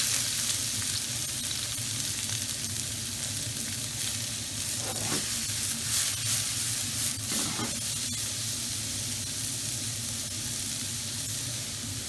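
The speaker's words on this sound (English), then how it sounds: "to a hot wok, we're going to add 2 tablespoons of peanut oil. And we're going to add our onion and capsicum straight in" Onion and capsicum fry in peanut oil in a hot wok, giving a loud, dense, continuous sizzle with brief bursts of hissing spatter as the pieces are tossed.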